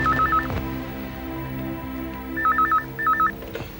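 A telephone rings with warbling electronic tones in short bursts: one brief burst, a pause, then two more bursts close together, over a low background hum.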